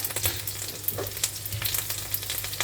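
Cauliflower pieces grill in a pan with a steady, fairly quiet sizzle, dotted with small pops and crackles over a low background hum, and nobody speaks.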